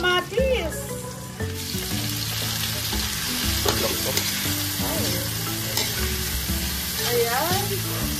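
Tomatoes frying in a pan with bitter gourd and pork, a dense, steady sizzle with stirring scrapes running through the whole stretch, close and fairly loud.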